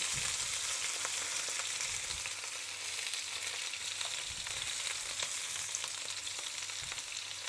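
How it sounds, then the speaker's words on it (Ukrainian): Steady, dense sizzling of potatoes and meat frying in a pan, crackling continuously with occasional faint clinks, no voices. "Смажимо."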